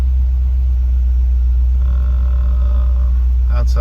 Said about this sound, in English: And she is purring there happily.